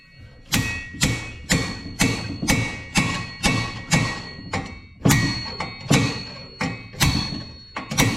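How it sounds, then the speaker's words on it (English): Repeated heavy metallic thunks from a slide hammer pulling a bearing out of a cylinder head, about a dozen evenly spaced blows with a short pause midway, loud and close. "Then screw in the slide hammer,"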